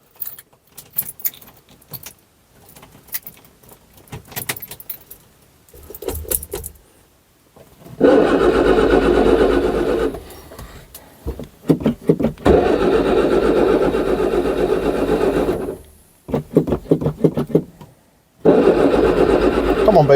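A Ford Escort engine is cranked with the choke out, turning over in several bursts before catching and running roughly, with keys jangling and a voice talking between attempts.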